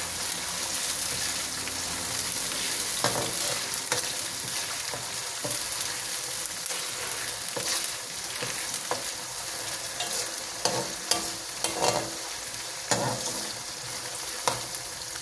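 Garlic-ginger paste fries with a steady, close sizzle in a pot while a spoon scrapes and stirs in repeated knocks, the frying hiss constant throughout with no voices.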